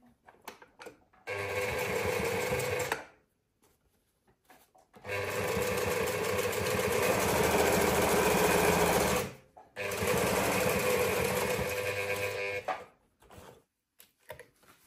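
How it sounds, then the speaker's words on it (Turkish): A sewing machine stitches a felt-lined bag lining in three sustained runs of steady motor whir, with short pauses and handling clicks between them. "Başlıyoruz şimdi dikmeye."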